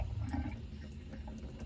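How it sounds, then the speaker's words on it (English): Water draining out of a Tupperware container of cooked meat, a continuous faint trickling and splashing with no talk. "what I recommend is utilizing the lid if you have one and draining out some of the water"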